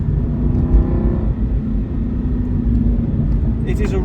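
A 2007 Aston Martin V8 Vantage with its 4.3 V8 engine, driven through bends and braking into a right-hander, gives a steady, close, low engine rumble for a few seconds.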